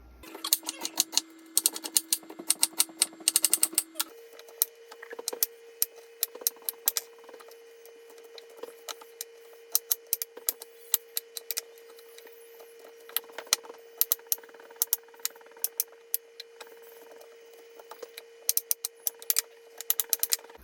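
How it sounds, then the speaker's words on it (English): Onion and broccoli florets are chopped on a board in a home kitchen, with quick irregular knife taps in bursts over a steady low hum while a skillet heats. "So I'm going to get my onion and my broccoli chopped up while my skillet's heating up."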